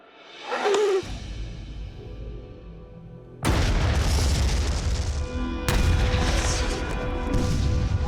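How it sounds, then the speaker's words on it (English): A 500-pound explosive detonation at an outdoor test range: a brief whoosh, then a huge deep boom that rolls on, followed by a second heavy blast and long rumbling echoes, loud and distant-sounding. "this is Knock Your Socks Off using a 500-pound explosion"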